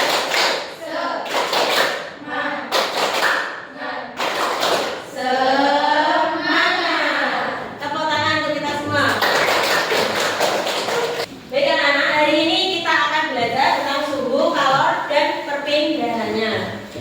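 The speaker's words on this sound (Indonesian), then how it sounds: "Ayo kita bersama-sama tepuk semangat terlebih dahulu." A class of children performs a rhythmic patterned clapping chant in a classroom, bursts of claps and taps alternating with sung or chanted group voices throughout, close and lively.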